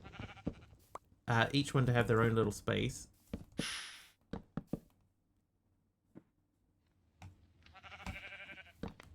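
Minecraft sheep bleat loudly and close, one long wavering call followed by short bursts, with someone talking over and between the calls.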